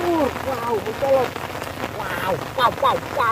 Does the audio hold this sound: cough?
no